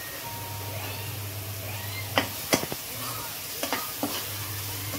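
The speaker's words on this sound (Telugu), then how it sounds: "ఇప్పుడు ఇందులో మనం తరిగి పెట్టుకున్న టమోటా ముక్కలు, పచ్చిమిర్చి ముక్కలు వేసుకుందామండి" Chopped tomatoes and green chillies frying with onions for a cashew and baby potato kurma, producing a constant sizzle with a low hum and several sharp spoon scrapes and clinks against the pan.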